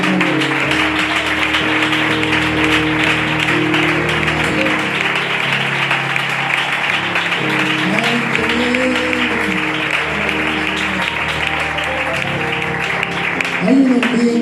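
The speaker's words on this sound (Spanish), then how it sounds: "Dale una ofrenda de aplauso a Dios." A church congregation claps as an offering of praise to God, a dense continuous applause running throughout while music and voices carry on loudly underneath.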